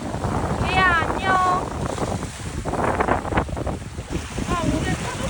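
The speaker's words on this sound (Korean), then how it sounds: "오늘 파도가 진짜 세요." Strong ocean waves break along the Gyeongju coast at a snorkeling spot, a steady loud wash of surf mixed with gusting wind noise on the microphone and brief voices.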